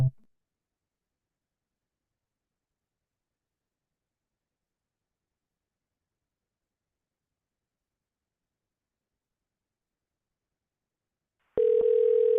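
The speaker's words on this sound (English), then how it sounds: "At the tone, please record your message." Voicemail recording beep on a phone call, a single steady electronic tone arriving after a long silence and holding to the end.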